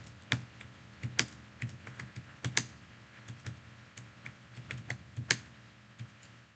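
Keys on a computer keyboard are tapped in quick irregular bursts of clicks, quiet and close, with brief pauses between, alone without speech.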